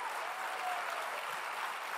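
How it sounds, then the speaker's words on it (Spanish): A church congregation applauds together during a service, a soft, steady wash of many hands clapping at an even level for a couple of seconds. "Dale fuerte ese aplauso."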